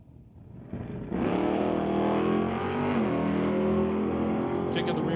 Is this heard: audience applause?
no